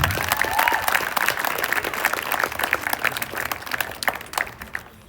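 At a senior awards ceremony, an audience claps together in a lively burst of applause, dense at first and gradually thinning into scattered claps as it dies away.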